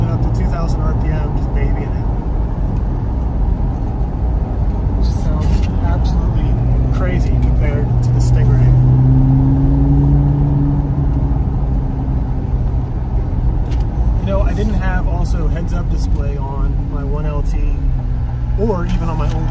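A 2023 Chevrolet Corvette C8 Z06 drives through traffic at low revs, a loud, deep engine drone rising and easing at close range, with a person talking over it.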